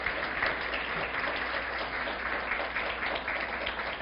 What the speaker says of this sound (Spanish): reiteremos ese aplauso con todo nuestro reconocimiento a los participantes